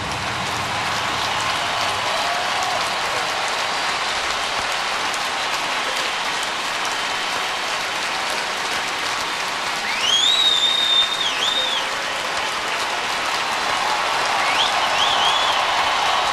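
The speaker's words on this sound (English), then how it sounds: "they say goodbye to Craig Biggio. He's just leaving the field. Listen to this crowd." A packed baseball stadium crowd in Houston roars and applauds continuously for Craig Biggio as he leaves the field, a dense, distant wash of cheering and clapping with occasional whistles rising above it.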